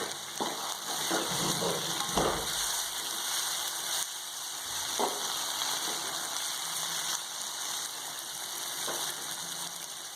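Onion and tomato sautéing in oil with dried chillies, a steady soft sizzle and hiss across the whole stretch, broken by a few faint clinks and stirring scrapes.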